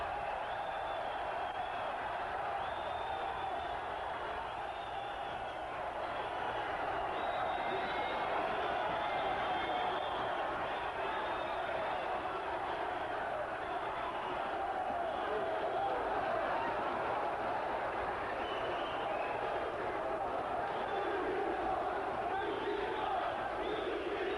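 Fight crowd chanting and roaring continuously at a Gracie jiu-jitsu event, a broad sustained wash of voices at moderate distance with a commentator talking over it throughout.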